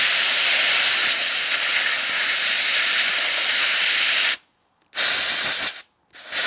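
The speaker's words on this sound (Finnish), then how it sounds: "mä annan nyt ensin vähän paineilmaa tonne" Compressed air blasts through an Oilon oil burner nozzle in a loud, steady hiss that cuts off abruptly, resumes briefly, then stops again.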